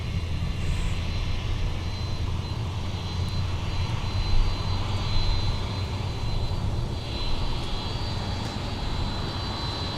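A jet airliner taxis at MSP airport, its engine a steady, continuous roar with a high whine running through it, fairly loud and unbroken for the whole stretch with no voices.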